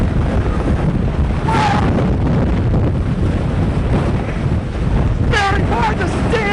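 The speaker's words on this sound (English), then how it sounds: "He throws more wind at you!" Strong, steady wind buffets a reporter outdoors, a loud broadband roar pressing on the microphone throughout, with brief voice fragments near the middle and end.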